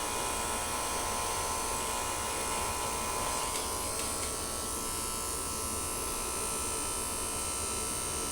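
An electric hair trimmer with no guard cuts close around the ear, a loud continuous buzzing whine that shifts slightly in pitch as it moves along the skin, with no talking.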